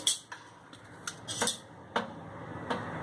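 A steel kadhai set down on a gas stove while cooking a Malvani onion and coconut masala, giving several sharp metallic clinks and knocks spread over a few seconds, close and fairly quiet, with no talking.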